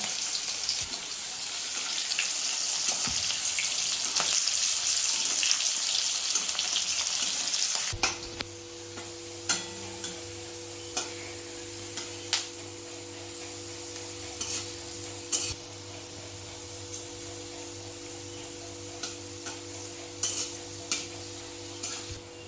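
Spices frying in a small amount of oil for a mango dal: a steady sizzle that drops abruptly partway through, followed by a low hum and scattered scraping and clinking of a utensil in the pan.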